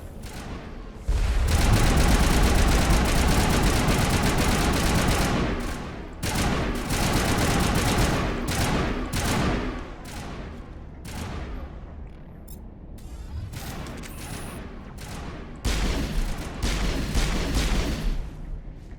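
Heavy gunfire from Geth enemies targets the player in Mass Effect Legendary Edition. Loud, rapid bursts and booming shots hammer repeatedly, easing off in the middle before another intense volley near the end.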